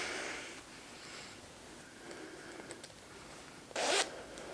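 A zipper on handmade By Hand London Jackie trousers gives one short, loud rasping pull near the end, standing out over a quiet room hiss.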